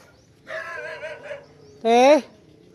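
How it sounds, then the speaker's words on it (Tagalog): A dog gives a couple of short, high barks or yips nearby, the second louder and sharper than the first, in an otherwise quiet setting. "may aso dito"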